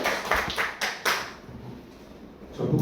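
An indoor lecture audience at a journalism training session gives a short, sparse round of clapping, a few distinct claps fading quickly into quiet room noise.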